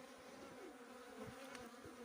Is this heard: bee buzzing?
yes